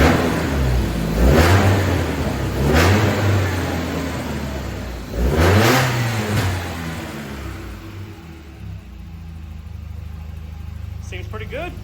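A restored 1992 Volvo 240 engine, with a new transmission pan gasket and filter, revs up in several strong bursts that rise and fall over its running note, then settles toward a steadier hum near the end.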